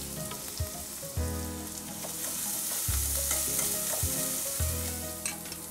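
Onion and capsicum sizzle hard in hot oil in a pan, a steady loud hiss broken by the thumps and scrapes of stirring at intervals, with no voices.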